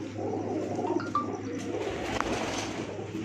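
Pigeons in a rooftop breeding setup coo softly amid a steady outdoor background, with a few brief higher calls standing out over the low murmuring.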